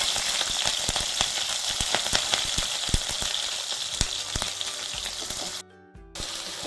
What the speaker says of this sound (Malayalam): എണ്ണ നന്നായി ചൂടായി കഴിയുമ്പോൾ മാത്രം നമുക്കിതിലേക്ക് ചെറുതായിട്ട് കൊത്തി അരിഞ്ഞ ഇഞ്ചി, വെളുത്തുള്ളി, പച്ചമുളകും ചേർത്ത് കൊടുക്കാം